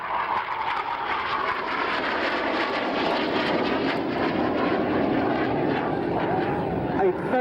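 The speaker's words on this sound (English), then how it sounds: "rolling the aeroplane for your inspection" A display aeroplane roars steadily overhead at Shoreham Airshow as it rolls down the display line, a continuous loud engine drone with a commentator talking over it throughout.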